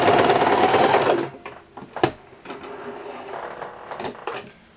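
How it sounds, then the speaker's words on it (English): A sewing machine stitches fabric for a tiny pillow in a loud, close burst of just over a second, then stops, leaving quiet mechanical clicks and handling sounds. "you line them up together under the machine, clamp it down, and just sew."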